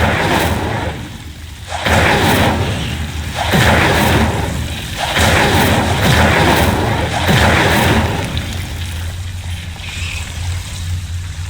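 Incendio fire spell cast repeatedly in the Hogwarts Legacy video game, a series of loud broadband whooshing, roaring fire bursts roughly every second and a half over a low rumbling background.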